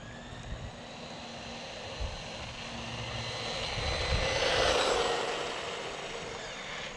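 A DeeRC 001E brushless RC truck runs at full throttle for a sustained stretch, its high electric motor whine droning continuously and swelling louder as it passes closer before easing off slightly.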